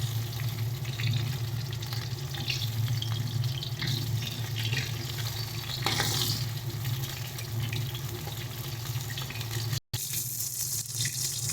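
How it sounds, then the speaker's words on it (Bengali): Rohu fish pieces frying in hot oil, a steady, dense, rushing sizzle heard close and continuously, cut by a brief dropout near the end. "একইভাবে আমরা বাকি যে মাছগুলো আছে ওগুলোকে একই রকমভাবে ভেজে নেব"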